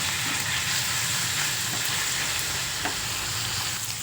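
Dried red chilies and tomato fry in a pan with a steady, dense sizzle and crackle. It runs unbroken and fairly loud throughout, with no voices.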